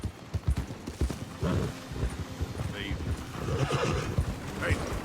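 A horse in Red Dead Redemption 2 whinnies clearly twice over steady hoof clip-clop and wind, with a voice speaking now and then in between.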